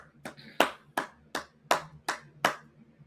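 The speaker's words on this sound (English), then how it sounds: "go ahead and clap it up" Seven sharp, loud claps ring out in a steady, slightly uneven rhythm at a brotherhood class of the Israelite School of Universal and Practical Knowledge in Austin, each clap a distinct crack with short decay and a brief gap between.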